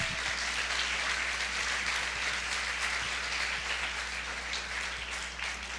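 A church congregation applauds as an offering of praise during a sermon, steady dense clapping filling the space throughout with a constant low hum underneath and no voices.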